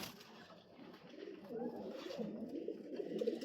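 Tournament racing pigeons, including a male, coo inside a loft; soft rolling throaty coos build up and repeat over the last couple of seconds, faint and nearby, without speech.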